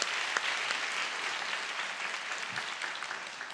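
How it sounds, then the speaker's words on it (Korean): Congregation applauding during a Friday prayer service at a church, steady broadband clapping from many hands that holds evenly throughout without voices over it. "다시 한번 박수로"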